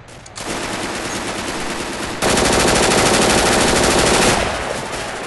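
Rapid automatic gunfire from a video game rattles loud and continuous, one sustained burst followed by a second, heavier burst that tails off.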